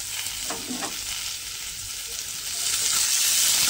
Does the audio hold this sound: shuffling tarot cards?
no